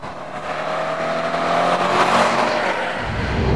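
A Subaru WRX STI with its boxer engine gives a loud, steady mechanical drone that swells slightly toward the middle and then holds on, with no talking over it.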